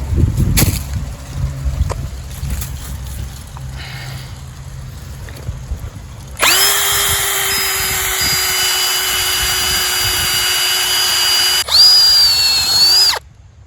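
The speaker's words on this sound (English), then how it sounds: "I'm going to use my drill here." A close cordless drill whirs steadily for several seconds, briefly changes pitch, then spins again before stopping, after a quieter stretch of faint background noise.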